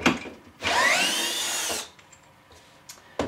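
A Festool CXS drill/driver drives a lag bolt into an undersized pilot hole, one loud sustained whine of a bit more than a second that cuts off sharply, followed by quiet with faint clicks.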